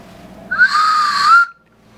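A small metal whistle, found in a box of old locomotive model parts, gives one steady shrill blast of about a second, loud and close, with nothing else around it.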